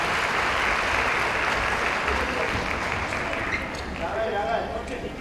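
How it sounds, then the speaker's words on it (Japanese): Audience clapping after a YOSAKOI Soran festival dance team's finals performance in a concert hall, a dense, loud wash of applause that thins slightly toward the end, with a voice speaking over it. "もう一度拍手をお願いいたします"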